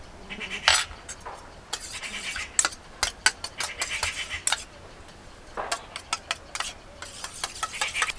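Yogurt being whisked with salt in a bowl, with irregular bursts of sharp clinking and scraping taps from the utensil against the bowl, some clustered quickly and some spaced apart, fairly close, without talk.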